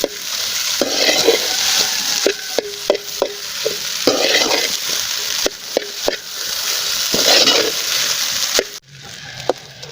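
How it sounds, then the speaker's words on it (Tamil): Egg rice with masala fries steadily in a pan while a spoon stirs it, with a constant sizzle and sharp clinks of the spoon knocking the pan at irregular intervals, and no talk. "நல்லா மிக்ஸ் பண்ணி விடுங்க."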